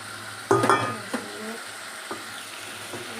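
A fish head frying in fish oil with green chilli, onion, ginger and garlic for dal, a close sizzle and spatter with several sharp spatula clanks against the pan.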